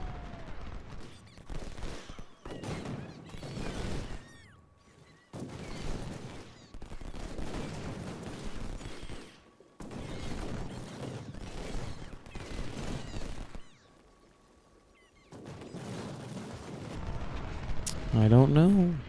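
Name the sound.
artillery and rifle fire in Ultimate General: Civil War video game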